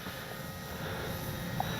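FMS radio-controlled model plane in flight, its small motor giving a thin, continuous airborne whine at a steady level with no talk.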